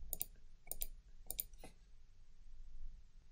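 A computer mouse clicks in small clusters, a few sharp close taps in pairs and singles, spaced apart in a quiet room.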